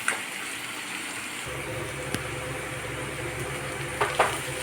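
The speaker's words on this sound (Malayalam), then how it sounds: "സബോള ഇട്ട് കൊടുത്ത് അതിനോടൊപ്പം തന്നെ സ്വല്പം ഉപ്പും ഇട്ട് കൊടുത്ത് അത് വഴറ്റുക" Onions sautéing with salt in a pan for a home-made squid dish give a steady, soft sizzle and frying hiss throughout, with a couple of brief scrapes or stirs near the end.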